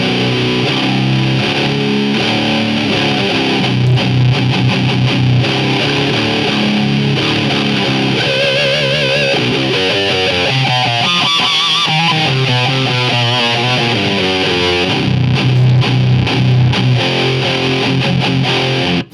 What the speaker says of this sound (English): So we're gonna have full transistorized distortion here.